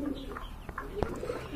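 Huma pigeons, a large green pair, coo among the birds of a pigeon market, low throaty calls broken by a few brief sharper sounds, moderately near and fairly quiet, with no speech.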